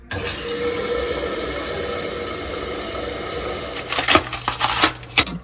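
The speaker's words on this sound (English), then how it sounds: "If your toilet is frequently making this sound, then this video is for you." A toilet with a faulty flapper runs with a steady hiss of water, then ends in a louder, gurgling burst of flushing and splashing near the end.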